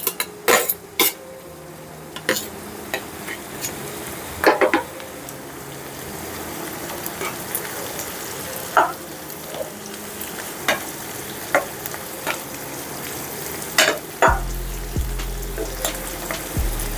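Cashews and coconut pieces frying in a pan for homemade sherva, with a steady soft sizzle under frequent scraping and clinking of a spoon stirring against the pan, with no voices.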